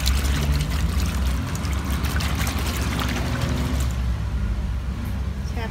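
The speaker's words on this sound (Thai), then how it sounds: "แล้วก็ใช้น้ำยาซักผ้าสีและผ้าขาวเทลงไปตีน้ำยาให้เข้าก" Liquid laundry detergent for colored and white fabrics is poured into a basin of water and stirred in. Water sloshes and churns steadily and loudly up close, easing off toward the end.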